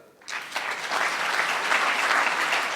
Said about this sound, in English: Give him clap